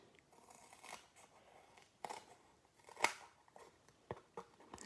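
Scissors snip around a black paper square for card making, a few quiet, sharp crisp cuts spaced irregularly over a soft background, with no talk.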